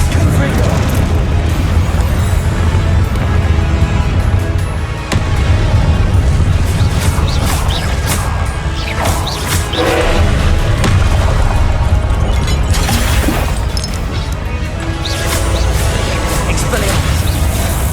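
Confringo fire-blast spells explode again and again during Hogwarts Legacy combat: loud, booming bursts packed close together over a dense, rumbling game soundscape, with voices mixed in.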